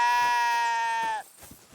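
A single sheep in Kingdom Come: Deliverance 2 gives one clear, close, nasal bleat lasting about a second, with a wavering tone, then cuts off into quiet game ambience.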